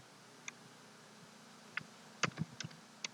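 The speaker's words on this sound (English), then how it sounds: "sorry about the typing, maybe a little bit loud." Scattered keyboard clicks, sparse at first and then a quicker cluster of keystrokes near the end, fairly close and crisp, with no talking.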